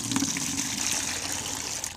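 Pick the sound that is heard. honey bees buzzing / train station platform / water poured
water poured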